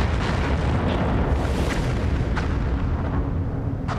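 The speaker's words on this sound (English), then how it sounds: "Explosions of inconceivable power are tearing through the universe hundreds of times a day." A deep, continuous rumbling roar, like an explosion rolling on, stays loud throughout with a few crackling bursts rising out of it.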